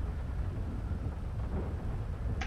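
Heavy rain in GTA 5 pours as a steady, loud low roar with a rumbling, thunder-like undertone, continuous and without speech.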